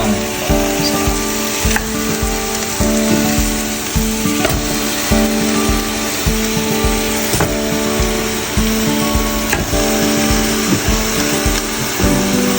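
Beef stew with cow feet and beef shanks sizzles steadily as ingredients go in and get stirred, with repeated scraping and knocking strokes of a spoon against the pot over the constant bubbling.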